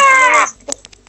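A male crow caws in the video game Zombie School, a loud harsh drawn-out call up front, followed by a few faint clicks and soft sounds after it dies away.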